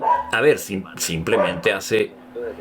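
A pet dog barks in short yipping bursts at home, the barks close and loud, overlapping someone talking.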